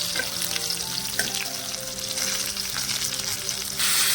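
Tomatoes frying in oil for chutney, producing a loud, continuous close sizzle with a few stirring scrapes, swelling into a harsher hiss near the end, and no speech.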